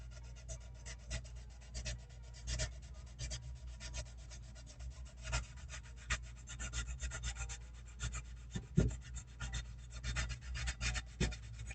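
Hand sanding on a model kit of a B-26 Marauder aircraft, faint repeated rasping strokes in an uneven back-and-forth rhythm, close and quiet against a low steady hum.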